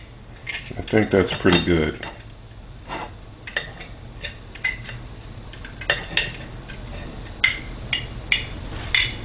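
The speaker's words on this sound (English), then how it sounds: "Just going to cut a little more off here and just make it bite-sized for the taste testing." A knife slices smoked filet mignon into bite-sized pieces on a board, giving sharp close clicks, taps and scrapes in an irregular rhythm; a voice speaks briefly near the end.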